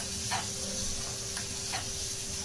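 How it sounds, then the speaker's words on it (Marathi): Onions fry in a pan, a low, steady sizzle and hiss filling the background, while a few soft scraping stirs sound at intervals. "5 मिनटं एक आपल्याला हलवून घ्यायचं आहे व्यवस्थित"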